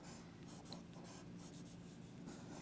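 A sketching pencil glides across paper in a steady, faint, continuous scratch with light strokes, close up and alone with no talking.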